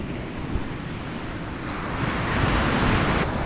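Surf washing onto the beach at Teluk Ijo (Green Bay) in Banyuwangi, a steady broadband roar with wind noise that swells louder in the second half, no voices.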